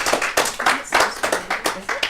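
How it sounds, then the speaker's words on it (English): Audience applause for a new improv player joining a comedy show, a steady burst of clapping with repeated hand-strike peaks, fairly close and loud throughout. "let's give her a special round of applause"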